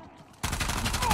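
Gunfire in the Uncharted video game: a loud, sustained burst of shots that erupts after a quieter stretch and continues steadily to the end, with game effects layered over it.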